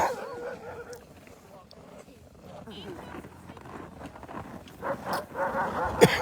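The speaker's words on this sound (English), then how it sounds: "We got some barkers here. Who are you barking at?" Dogs bark a few times in the background while people talk nearby; the barks are brief and partly buried under the conversation.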